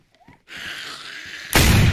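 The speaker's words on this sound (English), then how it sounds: "I will shoot the zombie." A gunshot blast in DayZ aimed at a zombie, arriving as a loud, sudden broadband burst near the end, preceded by a steady hissing ambient noise and faint low thumps.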